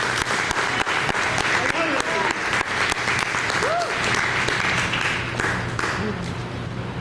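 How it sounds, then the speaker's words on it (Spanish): A church congregation applauds in praise, a dense, steady wash of clapping that holds for the whole stretch, with voices calling out beneath it. "Denle un aplauso al Señor."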